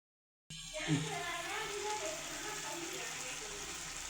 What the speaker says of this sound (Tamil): வெண்டைக்காயை போட்டு நல்லா வதங்க விடுங்க எண்ணெயில்